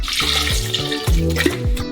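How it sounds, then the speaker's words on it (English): Milk poured into a blender jar holding chopped mint, a close, steady gurgling pour with splashy liquid bubbling that swells briefly in the middle before running on to the end. "Pour in some milk."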